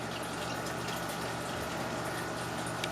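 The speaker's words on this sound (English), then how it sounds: "we're going to finish putting water in these jars" Water running steadily as jars are filled for home canning, a continuous near rushing and gushing with faint pump-like hum, no voices.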